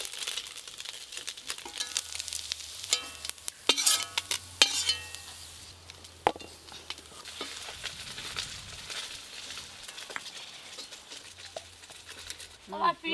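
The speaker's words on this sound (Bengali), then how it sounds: "এই মাছগুলো ভালো করে ভাজা হয়ে গেল" Small mourola fish fry in a pan with a soft sizzle and frequent spatula stirs and scrapes, close and fairly quiet, while people talk over the cooking.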